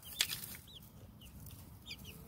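Rhode Island Red chicks and a few black chicks in a messy brooder cage give several short, high peeping clucks, close but fairly soft, scattered across a quiet background after a brief rustle at the start.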